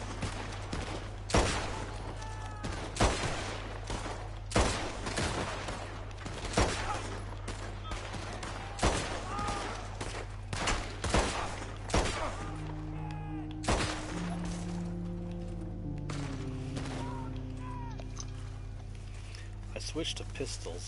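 Pistol shots crack out in Red Dead Online, roughly one sharp report per second in a steady string, close and punchy, with a player talking over the gunfire throughout.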